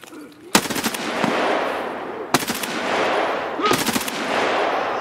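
Three bursts of automatic gunfire in a first-person shooter game, each sharp onset trailing into a long noisy decay, killing a scav, loud and close with faint voices underneath.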